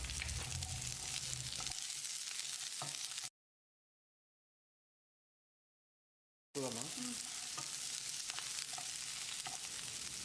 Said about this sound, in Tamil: இதோட 1 கை அளவுக்கு சின்ன வெங்காயத்தையும் சேர்த்து வதக்கிடலாம்.